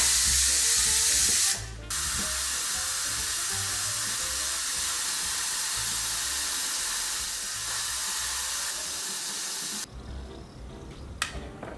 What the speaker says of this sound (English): we should pull the steam out of it right now.